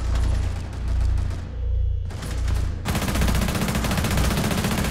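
Rapid automatic gunfire in the tactical shooter Rainbow Six Siege on the Coastline map, loud close bursts of tightly spaced shots with a brief lull before a dense, continuous stream of fire.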